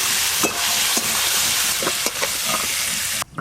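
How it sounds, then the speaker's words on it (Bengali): Cut brinjal pieces fry in oil left from frying hilsa fish, a loud dense sizzle with several sharp spatula taps and scrapes, cutting off abruptly near the end. "কেটে ধুয়ে রাখা বেগুনগুলো হালকা করে ভেজে নেব।"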